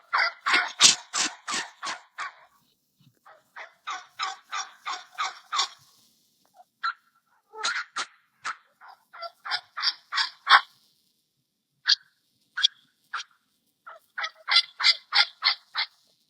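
A hunter's call imitates a turkey hen, loud and close, giving repeated bursts of rapid yelps and cuts in rhythmic runs separated by short pauses, with no talking.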